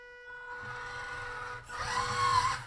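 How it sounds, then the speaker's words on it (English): A budget MN82s LC79 RC scale crawler runs with a loud, whining electronic speed controller, a steady tonal buzz that rises sharply and grows rougher partway through as the motor speeds up, heard close with no talking. "That is a loud ESC."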